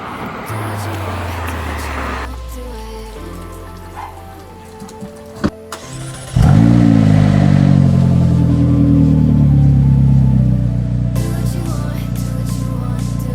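A McLaren engine idles after gear-oil-related work, first a low steady hum with clicks and knocks, then a sudden louder, richer engine drone that holds steady to the end.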